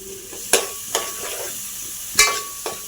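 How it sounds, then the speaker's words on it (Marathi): Finely chopped onion sautéing in a pan with a continuous sizzle, punctuated by four crisp stirring scrapes spaced across the moment, up close and without voices. "कांदा आपण परतून घेऊया."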